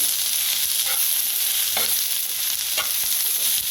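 Cashews and chopped tomato roast in a little hot oil in a pan for a spicy village-style chicken, a loud continuous sizzle broken by soft spatula scrapes and stirs, with no talking.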